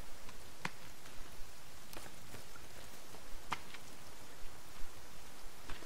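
Rain falling in the video game The Forest, a steady dense hiss of rainfall with scattered brief clicks and patters, no talk over it.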